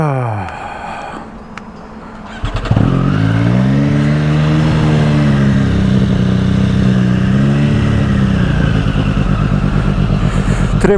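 Motorcycle engine on a New York City street starting up and then running steadily and loud, with a rough throbbing idle and slight revs continuing close to the microphone.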